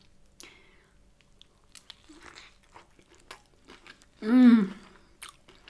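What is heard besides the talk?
eating a loaded breakfast brioche bagel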